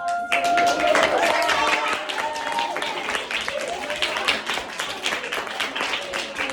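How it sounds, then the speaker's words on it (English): Children in a classroom give a round of applause, dense steady clapping with faint voices and a few whoops mixed in. "Can we all say thank you and give a round of applause?"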